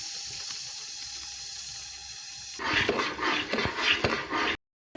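Water is poured into a pan of cooking besan halwa with sugar, starting with a sudden bubbling hiss and sizzle after a quiet stretch of low cooking sound, then stopping abruptly.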